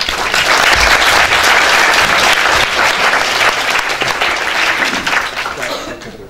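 Loud, full applause from a lecture audience greets a speaker after a talk on Eurocentrism, continuous close clapping that fades slightly toward the end.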